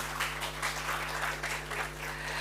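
A seminar audience applauds a speaker as he is introduced, a steady spread of clapping, fairly soft and distant over a low electrical hum, with no voices over it.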